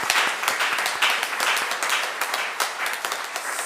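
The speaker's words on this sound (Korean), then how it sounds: "우리 모든 성도들 환영의 박수로 우리 그분들을 환영하겠습니다." Church congregation applauds to welcome visitors, a dense steady patter of many hands clapping together, lively and close throughout.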